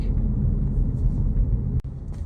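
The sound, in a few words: road traffic in downtown Conway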